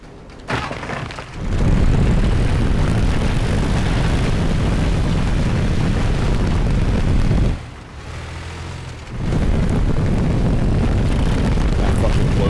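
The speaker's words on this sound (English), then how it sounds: "Vehicle thrusters that only activate whenever you press the accelerator." Vehicle thrusters firing in the game Teardown, a loud, harsh roaring blast that holds steady for several seconds, cuts out briefly, then fires again just as strongly.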